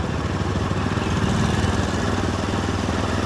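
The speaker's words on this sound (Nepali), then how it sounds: "यहाँ धेरै अटोहरू चल्दै रहेछ," Auto rickshaws and motorbikes running at a busy market junction in Rampur, Udayapur, Nepal, with a steady, loud, close engine drone and clatter that never stops.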